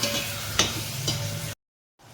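Soaked, drained ridge gourd pieces tipped into a hot pan for a simple Telugu-style curry, sizzling steadily up close with two quick stirring scrapes, then a sudden cut to near silence.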